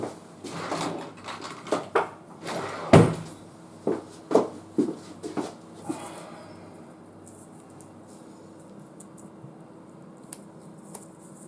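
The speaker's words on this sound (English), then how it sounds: "I shall get a sinker out of my drawer." A drawer is opened and rummaged through for a fishing sinker, giving a series of close wooden slides, knocks and rattles over the first six seconds, then quieter faint handling.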